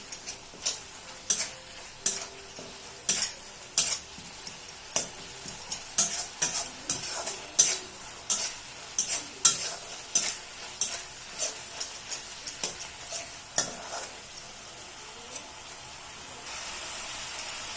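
Ginger and garlic paste fries in a pan for a chicken curry, soft sizzling under repeated sharp scrapes and taps of a spoon stirring against the pan, with a brief steadier sizzle near the end.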